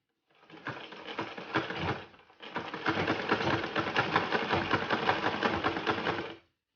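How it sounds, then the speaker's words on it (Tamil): A sewing machine stitches folded fabric during a tailoring lesson, a rapid mechanical whirring and clatter close up, running briefly, stopping for a moment, then continuing steadily before cutting off. "நம்ம தைக்க ஆரம்பிக்கலாம்."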